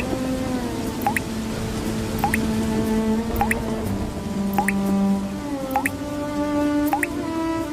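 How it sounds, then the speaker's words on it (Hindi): Rainwater drips steadily from the leaking roof of a poor family's hut during a heavy downpour, evenly spaced drops landing about once a second, close and clear over a constant wash of rain. "अजी देखिए, पूरी छत से पानी टपक रहा है।"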